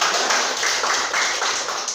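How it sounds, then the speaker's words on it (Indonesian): Classroom applause for a student: many hands clapping in a dense, steady patter that fills the room, continuous and fairly loud throughout with no talk over it. "Oke, tepuk tangan untuk Epan."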